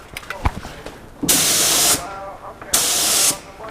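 Two loud bursts of spray paint hiss, each about half a second to three-quarters of a second long, hitting a Humvee's bodywork, separated by a short pause with quiet handling noise and a faint click beforehand.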